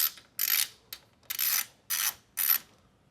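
Ratcheting clicks from a hand tool loosening a small screw at the front of a Tesla Model Y during wrap prep, coming in six short, crisp bursts of rapid ticking with brief pauses between them, close by and with no talk.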